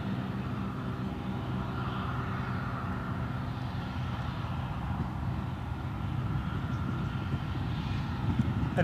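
A Lufthansa airliner flies over Newcastle Airport as a steady, distant-sounding engine drone, broad and even throughout, with no voices.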